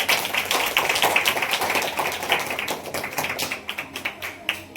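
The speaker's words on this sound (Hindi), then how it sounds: "थोड़ी एक बार ताली बजाओ आप लोग, सुस्त हो रहे।" A church congregation at a Sunday worship service claps steadily in a dense, fairly loud patter that thins toward the end into a few scattered, separate claps, with no one talking over it.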